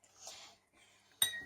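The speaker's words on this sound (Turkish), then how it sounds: "Boraksımız eriyene kadar karıştırıyoruz." A spoon stirs borax into water in a glass while slime is being made. Soft scraping gives way to one sharp, close clink against the glass.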